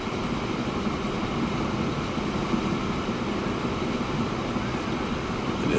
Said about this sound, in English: So this train can pass by.